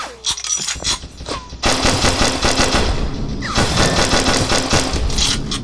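Rapid bursts of small pistol fire in a video game, dense repeated shots running nearly continuously, loud and close.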